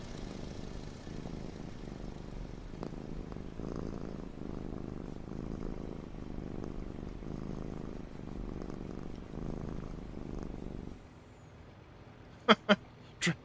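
A cat purrs steadily and close by in a rhythmic, throbbing pattern inside a farm machine cab during an oat harvest, over a low engine hum. A few sharp clicks follow near the end.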